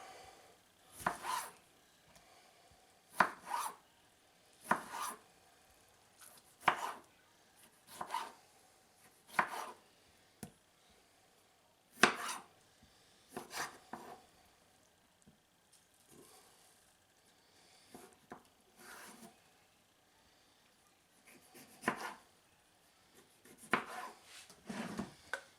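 Knife chopping tomatoes on a cutting board, with repeated firm thuds in uneven bursts and pauses between them, close by and alone.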